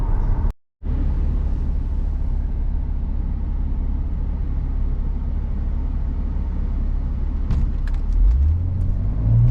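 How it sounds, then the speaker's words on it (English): A Mercedes C36 engine drones at a steady low rumble with a deep aftermarket exhaust note, briefly cutting out near the start, then rising slightly toward the end. "the exhaust that we had done a few months ago is like perfect"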